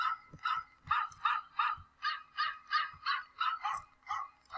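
Repeated dog barks from a Roblox game, about a dozen evenly spaced woofs in a steady rhythm, fairly loud and alone with no talk over them.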